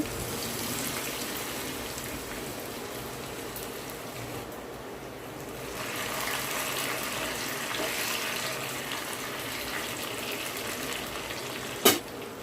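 Cumin seeds and coarsely crushed garlic fry in a pan for a Telangana-style raw onion tamarind stew, giving a steady close sizzle that swells midway, ending with a brief clatter.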